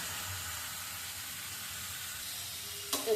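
Fish spice paste frying in a pan, a quiet steady sizzle and hiss throughout, ending with a brief clatter near the close.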